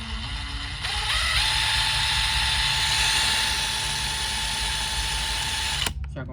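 A Dewalt DCF850 cordless impact driver runs at speed setting one, giving a steady close-up high motor whine that ramps up early, holds for several seconds, then cuts off near the end.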